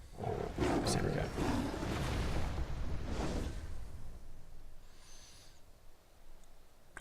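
Saber Cat card from the Elder Scrolls: Legends card game lets out a loud, rough roar that swells over the first few seconds and then fades into a quieter, airy tail.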